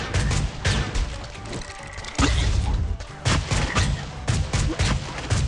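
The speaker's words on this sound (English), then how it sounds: "I'm really liking this shotgun over here" Shotgun blasts in the mobile game Swamp Attack 2, a string of loud, sharp shots with clanking reload sounds between them and a busy game soundtrack behind.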